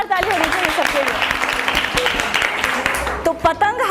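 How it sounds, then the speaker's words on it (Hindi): Audience clapping for children flying kites at an outdoor gathering, with a lively patter of applause running beneath people talking and voices rising over it. "जोरदार ताली होनी चाहिए सबके लिए"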